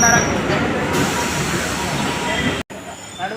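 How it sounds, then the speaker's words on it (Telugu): A rumbling, steady interior drone of a moving passenger train heard from a seat inside the carriage, continuous before a brief cut, with a hiss overhead. "ఇక ట్రైన్లో అయితే కూర్చున్నాం."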